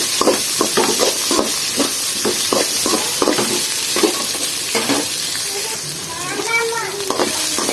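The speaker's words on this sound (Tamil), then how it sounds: "வெங்காயம் நல்லா வதங்கட்டும்." Large chopped onions fry in a pan for crab masala, sizzling steadily while a spoon stirs and scrapes at an uneven pace, close up, with a brief high voice near the end.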